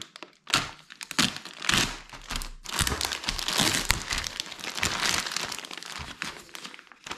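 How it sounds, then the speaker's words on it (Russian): Someone takes apart a plastic three-section stand for papers at close range. Crinkling, crackling plastic and sharp snaps and thunks come in irregular bursts, with no talking. "Так, будем разбирать эту подставочку."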